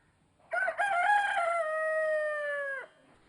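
A rooster in Irinavu, Kannur, crows once close by, a clear rising then long held cock-a-doodle-doo lasting about two seconds against a quiet background.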